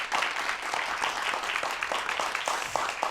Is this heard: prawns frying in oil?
no